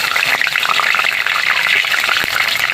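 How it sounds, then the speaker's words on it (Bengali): Sugar, bay leaf and dried chillies fry in hot oil, giving a steady, loud, close crackling sizzle with dense bright spatter that runs unbroken throughout. "একটু লাল লাল করে ভেজে নেব।"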